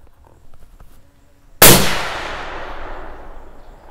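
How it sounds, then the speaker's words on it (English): A single .280 Ackley rifle shot firing a 145-grain Barnes LRX load at an outdoor range, a sharp loud crack with a long, fading echo tail after a quiet lead-in. "I'm going to take a second shot and just make sure that that's where we're hitting."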